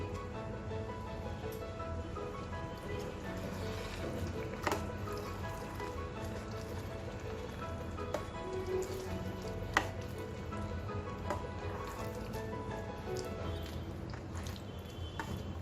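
Boiled pav bhaji vegetables are stirred and mixed in a pot with their own cooking water. The spoon gives repeated soft, wet scraping and squishing sounds, with occasional louder knocks against the vessel.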